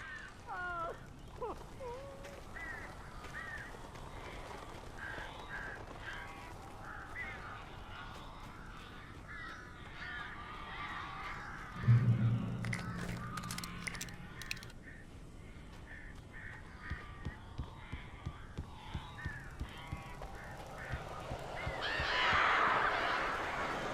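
Birds cawing in the Alan Wake Remastered video game: scattered crow-like caws and squawks over a dark ambient game soundscape, with a brief low thud midway and occasional voices.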